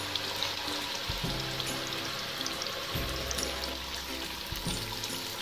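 Sliced onions fry in oil in a kadhai over a high flame for chicken dum biryani, a steady dense sizzle and bubbling hiss with a few soft low thumps, continuous and close, with no talking.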